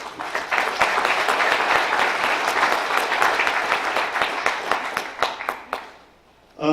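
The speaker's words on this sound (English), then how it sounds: "A round of applause for them" An audience at a city center dedication applauds a group of elected and appointed officials, brisk close clapping with distinct individual claps, thinning out near the end before a final burst.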